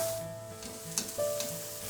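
Big steaks cooking in a pan, a low steady sizzle with a couple of faint clicks and a soft shift of the meat, close and unbroken by talk.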